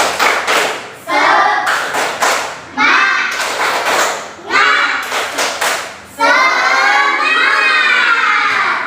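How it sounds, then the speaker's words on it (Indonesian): Fourth-grade pupils in a classroom perform a rhythmic spirit clap, chanting loudly in unison between bursts of patterned hand claps. "coba kita tepuk semangat"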